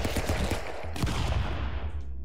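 Rapid gunshots crackle in the Stick Fight video game as a dense, loud burst of fire that thins and cuts off near the end, with no talk.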